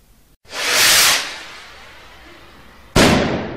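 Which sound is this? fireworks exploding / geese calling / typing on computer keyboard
fireworks exploding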